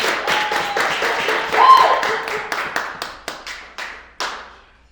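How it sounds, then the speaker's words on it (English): Small audience applauding panelists at a live civic engagement conversation, a brief burst of clapping that thins into a few scattered, separate claps before fading out. "let's just give another round of applause for our panelists"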